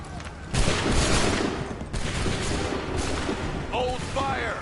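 Musket volleys in Assassin's Creed 3 Remastered crash out as loud, dense bursts of gunfire, a heavy roar at the start and another about a second later, with shouted commands briefly heard near the end.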